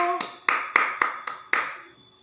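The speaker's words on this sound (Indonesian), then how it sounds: "Tepuk tangan dulu." Children clapping hands together in a classroom, six sharp claps in an uneven rhythm that ring out close and loud, each fading quickly, then a trailing quiet tail.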